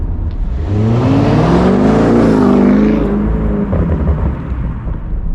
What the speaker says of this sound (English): Now the Akrapovic exhaust,